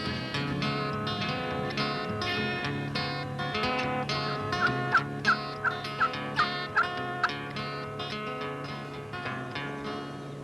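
A flock of wild turkeys gobbles repeatedly, the calls overlapping and coming closer, with a run of sharp, distinct gobbles in the middle standing out against a busy, layered chorus.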